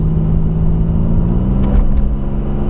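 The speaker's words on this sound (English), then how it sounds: "as you can hear, it's a nice V6 sound." A Pontiac 6000 with a V6 engine runs at a steady, loud idle, with a deep, even rumble and no one talking.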